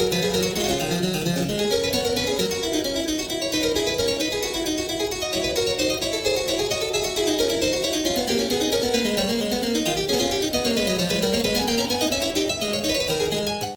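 Bach's Invention No. 1 played at doubled tempo on a keyboard, rapid running lines in two interweaving voices tumbling along in a steady, busy stream at even loudness, with no talking throughout.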